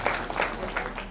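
Audience clapping for performers at a stage play staged for the Hindu New Year, a steady, dense wash of applause that holds for about a second.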